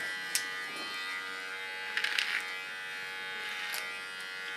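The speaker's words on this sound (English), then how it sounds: "Also on this side, with my small clipper, I sharpen the contour line and make use of the natural fall." A small electric hair clipper buzzes steadily and faintly while it trims hair, with a few light clicks and contact noises as it moves along the contour.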